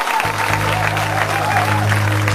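Applause at a French-language church testimony gathering, a dense, steady clatter of clapping from a nearby audience lasting throughout, with a low hum underneath.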